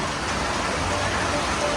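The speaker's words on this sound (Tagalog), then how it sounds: "Ang lakas ng ulan talaga" Heavy rain pours down outdoors in a nature park setting, a dense, continuous hiss of downpour drumming on surfaces, loud and unbroken throughout, with a voice faintly under it.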